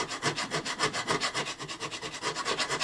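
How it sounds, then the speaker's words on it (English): A diamond grit file dresses the frets of a very old Gibson Southern Jumbo guitar, producing a continuous rapid back-and-forth rasping in quick, even strokes, close and moderately loud. "these diamond grit files, you can file away from you and in both directions"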